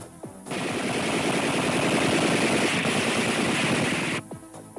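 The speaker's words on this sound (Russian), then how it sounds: "30-миллиметровая автоматическая пушка 2А72 с дальностью стрельбы до 4000 метров" A 30 mm 2A72 automatic cannon on a KLIVER turret fires a long, sustained burst of rapid, loud shots lasting about four seconds, with booming echo trailing after it stops.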